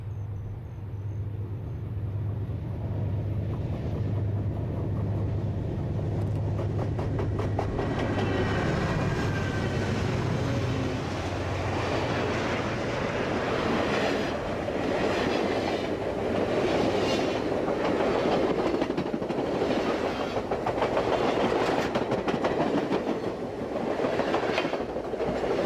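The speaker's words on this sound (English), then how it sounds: "Completing our busy visit to Dotsero is the eastbound California Zephyr headed toward" Eastbound California Zephyr passenger train passing at Dotsero, a loud continuous rumble with rhythmic clickety-clack of wheels over rail joints, building as the cars roll close by.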